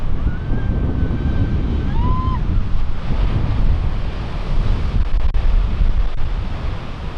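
Steady ocean surf washes loud and continuous at night near a shipwreck on the shore, with wind buffeting the microphone and no voices over it.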